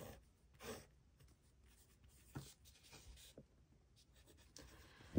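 Pen or pencil writing while drawing an area model for a math homework problem, faint close scratches and taps in short irregular strokes against quiet background, no talking.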